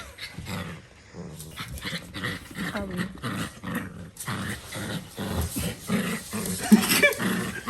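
A female dog growls and grumbles continuously while tugging on a toy, with a nasal, duck-like quality, punctuated by yips and whines, close and lively, with a person's voice briefly audible.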